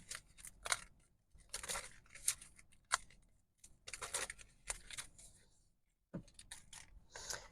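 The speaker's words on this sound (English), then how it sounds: "Okay, I'm only pulling oracle cards." Oracle cards from an ancestor deck shuffled by hand in repeated quiet bursts of riffling and flicking, separated by short pauses, close and soft with no talking.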